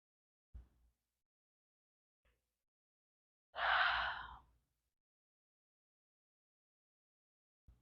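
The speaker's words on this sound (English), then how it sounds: "Exhale one more time with a yawn." A single long, breathy yawning exhale during a gentle yoga warm-up, rising and fading over about a second in near silence, with a few faint soft knocks before and after.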